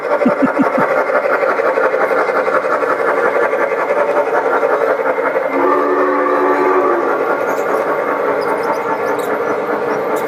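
Large model train running on an indoor layout, its steady rolling clatter and wheel squeal continuous and close, with a brief whistle-like tone partway through and no talking.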